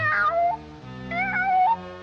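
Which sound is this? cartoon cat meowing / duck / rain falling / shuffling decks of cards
cartoon cat meowing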